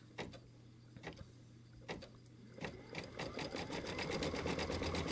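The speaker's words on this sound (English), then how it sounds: "let's put the foot down and let's see if this will pick up the stitches." An embroidery sewing machine stitching a Christmas wall hanging block, first a few separate clunks and single stitches, then a rapid, steady run of mechanical stitching that builds and holds close up.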